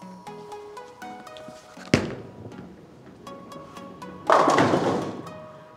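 A bowling ball with a chosen angle rolls down the lane, with a sharp thud near two seconds as it lands, then a loud, broad crash of pins around four and a half seconds that decays, over faint alley background.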